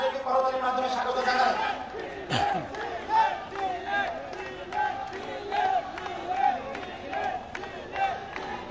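Activists and party workers gathered at a rally for the launch of a political youth organisation chant slogans together, a dense, continuous mass of raised voices with rhythmic surges and no pauses.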